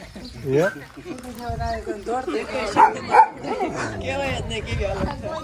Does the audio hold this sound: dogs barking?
yes